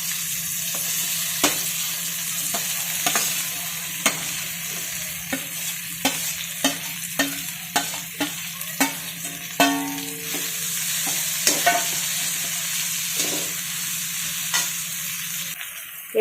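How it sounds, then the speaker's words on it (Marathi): Masala for a brinjal curry sautés in a pan, a steady sizzle broken by repeated sharp clicks and scrapes of a spoon stirring against the metal. "याच्यामध्ये आपण हा जो मसाला केलेला आहे ना तो परतून घेऊयात"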